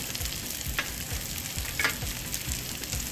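Spice powders stirred together in a pan for a raw mango methamba, a close scraping, rhythmic stir with a soft sizzling hiss beneath it and no voices.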